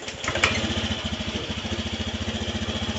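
Automatic scooter engine just after a CVT service, close and steady, idling with a rapid, even putter that follows a brief start.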